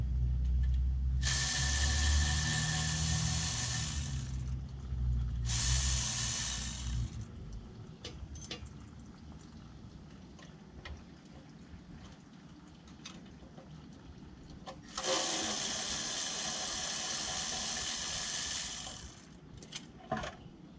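A ratchet works on the bolts of an engine oil pan, with a few bursts of rapid clicking separated by quieter stretches of faint clinks and handling noise, close by and with no talk.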